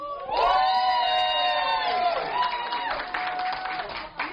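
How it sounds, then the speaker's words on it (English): A live show crowd cheers and claps, with sustained high whoops and shouts at first giving way to scattered clapping and cheering. "By round of applause, please."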